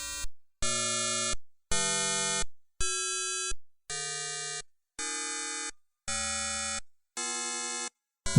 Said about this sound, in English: What you hear now is the sound of each of the 20 amino acids going from the beginning to the